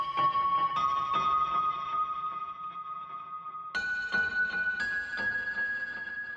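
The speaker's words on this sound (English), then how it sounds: "The synth spade, or the spade synth, which sounds like this." A synthesizer patch built from recordings of a spade plays bell-like pitched tones with sharp metallic attacks, a steady sustained note underneath and a step up in pitch midway, loud and close with no talk.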